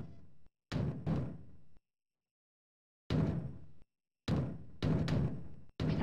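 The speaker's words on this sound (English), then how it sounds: "Sounds like somebody's braying on the door." Heavy knocking on a door in the video game Conker's, several separate bursts of loud thudding blows with silent gaps between them, no voices over it.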